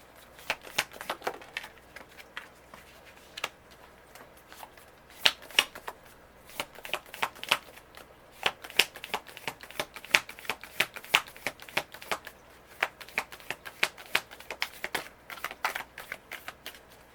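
A Wild Unknown Archetypes card deck is shuffled repeatedly, with crisp riffling bursts and soft slaps that come in uneven clusters, close and alone in a quiet room.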